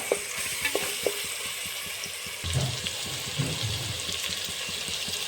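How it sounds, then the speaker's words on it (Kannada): Tomatoes fry in hot oil for chicken sukka, giving a steady close sizzle with a few scraping stirs and a brief burst of louder bubbling midway; no one talks. "ಟೊಮೆಟೊ ಫ್ರೈ ಮಾಡ್ತಾ ಇದ್ದೀವಿ ಇವಾಗ"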